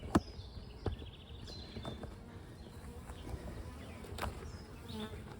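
Bees buzzing faintly around a 14-frame beehive outdoors, a soft, steady hum with a few brief louder passes near the listener and occasional small knocks.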